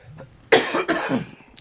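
Two sharp, close coughs in quick succession, loud against an otherwise quiet background.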